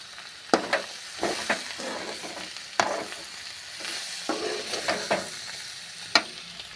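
Shredded cabbage fries and sizzles softly in oil in a pan while being stirred, with occasional sharp scrapes and clinks of a utensil against the pan.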